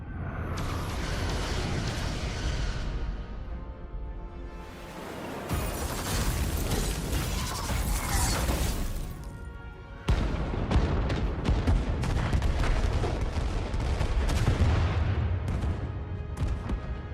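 Starship weapons in Star Trek: Resurgence fire on an enemy ship in long roaring bursts of booms and crackling blasts, with sharp impacts rattling in a rapid series after a brief dip.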